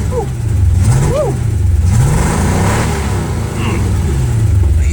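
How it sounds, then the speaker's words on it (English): An old small-block V8 warming up rumbles close by, its revs rising and falling in a few uneven blips over a steady low idle. "sitting here letting the old small block warm up"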